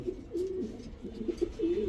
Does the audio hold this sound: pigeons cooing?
yes